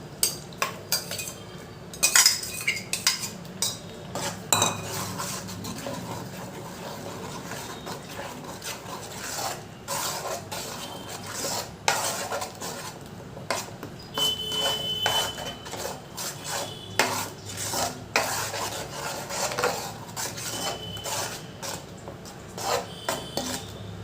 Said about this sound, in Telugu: టమాటాలు వేగాయి కదా, ఇప్పుడు ఈ పేస్ట్ వేసేసుకుందాం.